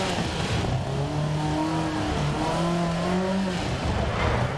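An Opel Ascona 400 rally car engine in DiRT Rally 2.0 drones steadily with rising and falling pitch as it revs through gears, loud and continuous with no talking.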